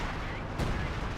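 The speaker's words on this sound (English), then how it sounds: "Barrage in the base there." An artillery barrage strikes a base in the wartime strategy game Company of Heroes 2, a dense, loud rumble of explosions that swells into a sharper blast midway through the brief burst.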